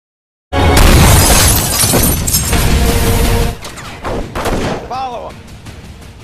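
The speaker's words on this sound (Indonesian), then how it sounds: "Dan aksi tembak-tembakan pun dimulai" A sudden loud burst of rapid gunfire with shattering crashes, then scattered shots and fading echoes before it goes quiet.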